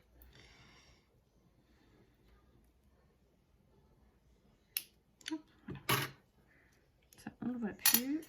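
Small metal snips click through thin jewelry wire at a work table, a few sharp close snips and clinks after a quiet stretch.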